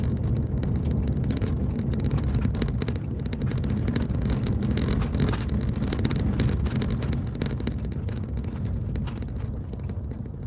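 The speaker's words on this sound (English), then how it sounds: "It's lines of cars." Lines of cars rolling along a Kansas road during a tornado outbreak, a steady dense rumble of traffic and tyre noise heard close by with wind buffeting the microphone throughout.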